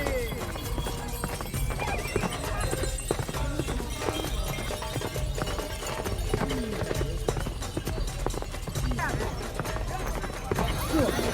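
Horses gallop at the Pasola festival in Sumba, where mounted riders charge and hurl wooden javelins at each other. Steady clip-clop hoofbeats mix with whinnies and a thick crowd din.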